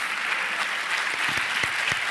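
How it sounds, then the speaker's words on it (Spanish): Steady applause from a conference audience at a women's economics congress, dense and continuous throughout, with a few sharper individual claps standing out near the end. "Pues un aplauso, ¿no? Para los tres."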